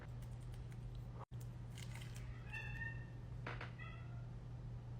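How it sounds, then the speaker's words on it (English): Cats meowing indoors during a home makeup session, a couple of short, moderately loud meows over a steady background hum, with a brief sharp dropout early on. "My cats are going crazy."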